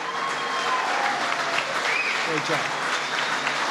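Audience applause at a Korean War veterans' organization event, a dense steady clapping filling the room throughout, with a nearby voice speaking briefly over it.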